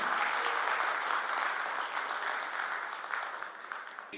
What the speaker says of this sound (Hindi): मैं तालियों से रजत बिंदल जी का स्वागत करूं।